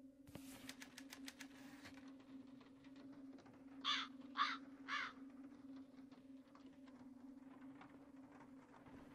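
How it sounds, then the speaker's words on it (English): Crows caw three times in quick succession midway, fairly close over a steady low hum in the video game Dead Secret, after an opening burst of rapid mechanical clicking. "Crows?"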